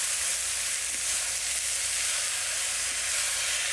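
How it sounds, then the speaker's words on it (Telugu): Chopped fenugreek leaves sizzle in a hot pan with turmeric, cooking for a fenugreek egg curry; a steady, close, bright frying hiss continues without pause. "వెంటనే కోసి పెట్టుకున్న మెంతి కూర కూడా వేసేసుకుందాం."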